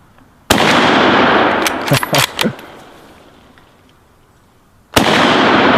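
A Mauser K98k rifle fires at an outdoor range: one sharp, loud crack followed by a cluster of quick pops and a fading echo, then a second shot near the end.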